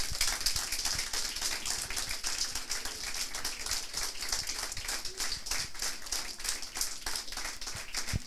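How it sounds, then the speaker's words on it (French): Audience applause welcoming students at a coding bootcamp demo: dense, steady clapping from a room of people sustained for several seconds, even and moderately distant. "je veux un maximum d'applaudissements"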